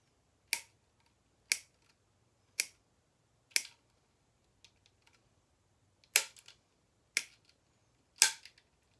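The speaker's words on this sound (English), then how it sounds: "So we have to cut old string first." Old strings are cut out of a tennis racket, giving sharp, isolated snips heard up close, about eight separate cuts spaced roughly a second apart with a short gap in the middle.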